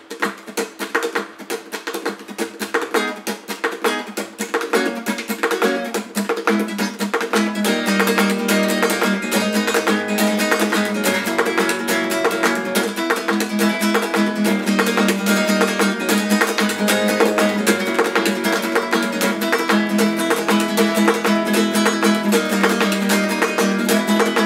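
Flamenco guitar played in a percussive pattern with muted strings, strummed steadily and loud throughout with dense rhythmic attacks and no voices.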